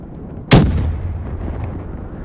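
A single grenade blast in Black Ops 3 Search and Destroy, one sharp loud burst with a short rumbling tail that fades under low game ambience.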